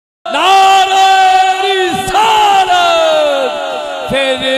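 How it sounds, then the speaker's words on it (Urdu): Loud, close voices chant a drawn-out religious slogan at a 12 Rabi ul Awal gathering in Fatehpur, with long sustained tones rising and falling in a few strong phrases. "پھر گج بج کے نعرے لگاؤ سارے، نعرہ رسالت"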